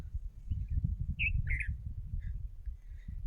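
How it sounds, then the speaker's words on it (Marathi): Birds chirp in short, scattered calls over a farm field where sugarcane and wheat grow, the tweets sitting faint and intermittent above a steady low rumble of wind or handling noise. "पक्ष्यांचा आवाज येतोय का?"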